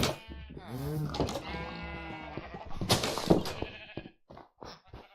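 In Minecraft, a sheep lets out a wavering, drawn-out bleat, followed by a person talking and a few short clicks and knocks of in-game activity.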